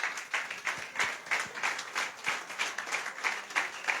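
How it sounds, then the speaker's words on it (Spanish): A church congregation claps in a steady round of applause, a dense, even patter of many hands in a reverberant room, moderately loud and without talk. "Dele ese aplauso al Señor."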